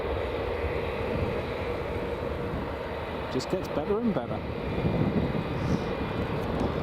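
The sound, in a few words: SAUDIA Boeing 777 airliner taxiing at Newcastle Airport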